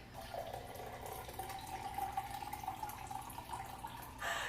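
Freshly made homemade juice pouring into a glass, a faint, steady liquid trickle heard close up in a quiet kitchen, ending with a slightly louder splash.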